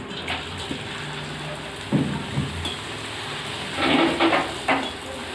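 Puchka dough frying in hot oil in a wok, a soft steady sizzle with bursts of bubbling and crackle as the pieces puff up.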